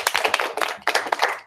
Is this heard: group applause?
yes